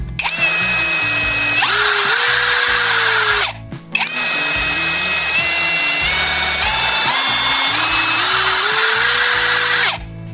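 A GRAND cordless screwdriver drill, after three months of regular use, whines loudly and steadily up close through two long runs split by a brief stop, its pitch stepping up and down as the trigger speed changes.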